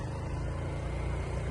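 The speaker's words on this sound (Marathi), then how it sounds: "इथे भाजी मंडीत खूप ट्रॅफिक राहतं." Steady low engine rumble of road traffic at a busy vegetable market, a continuous vehicle drone with no break and no one speaking.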